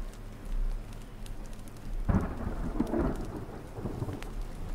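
Rain and a thunderstorm in the survival video game The Forest: steady rainfall with a low rumble underneath, then a close thunderclap around the middle that rolls on, fairly quiet overall and with no speech.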